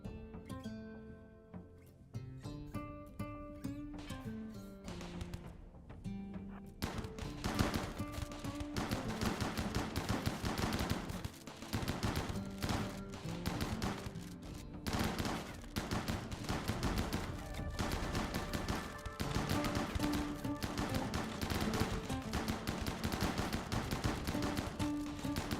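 Deployable mini turrets in RimWorld fire a long, dense stream of rapid shots. A quieter tonal passage comes first, then the bursts carry on loudly, almost without pause, for the rest of the stretch.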